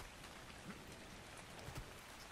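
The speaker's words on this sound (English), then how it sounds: "So that's what we know that sound is for, is rain." Soft, steady rainfall in the game ARK: Survival Ascended, with a dense patter of droplets, faint and even throughout, a few slightly louder drops standing out.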